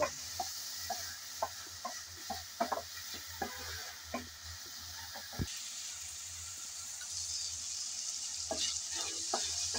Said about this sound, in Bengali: এখন দিয়ে দেব আগে থেকে ভিজিয়ে রাখা ডালগুলো। নেড়ে চেড়ে একটু তেলের মধ্যে ভালোভাবে ভেজে নেব।